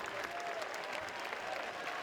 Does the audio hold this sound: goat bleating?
no